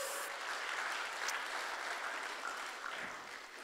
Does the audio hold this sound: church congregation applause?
yes